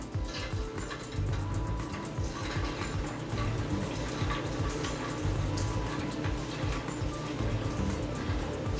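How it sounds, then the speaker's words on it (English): Beans tip from a container into a pot on a cooktop, a dense, continuous rustling pour with wet splashing that runs several seconds at close range, no talk. "I'm going to add my beans. And we're just going to pour those right on top."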